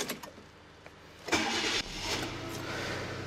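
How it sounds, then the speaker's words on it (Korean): A black Kia New Morning LX cranks briefly and fires up, a short starter whir followed by the small engine catching and settling into a steady, even idle close by. "시동 한번 걸어보도록 하겠습니다."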